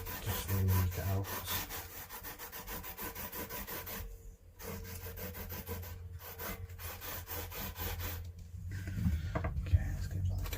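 Sandpaper rubbing and scraping on a PRS SE Custom 24 guitar, worn paper from use on several guitars, steady rasping strokes continuing close up with a couple of brief pauses.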